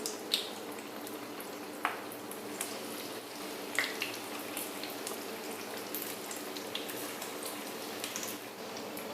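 Cut pieces of bread fry in hot oil over medium heat with a steady close crackling sizzle and scattered sharper pops, continuous and even throughout, with no talking.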